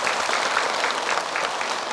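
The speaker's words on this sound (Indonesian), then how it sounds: "Boleh tepuk tangan Ibu." A studio audience at an Indonesian religious TV programme claps in a dense, continuous wash of applause, even and unbroken for the whole two seconds.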